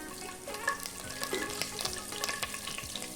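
Mustard seeds and tempering spices sizzle and crackle in hot oil, a steady quiet frying hiss with scattered pops and a few light clinks.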